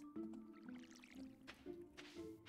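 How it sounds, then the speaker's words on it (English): Watering crops with a watering can in Stardew Valley: soft squishy splashes and bubbling drips repeat in short bursts over light musical tones, quiet and close. "We'll water this."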